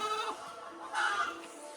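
Young African Boer goats bleat close by, two wavering cries in quick succession with no talk.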